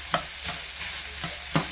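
Onions sizzling in a pan with browned hamburger meat, a steady close hiss with a few soft stirring scrapes at intervals.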